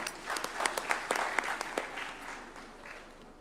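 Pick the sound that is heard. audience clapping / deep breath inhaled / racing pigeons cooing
audience clapping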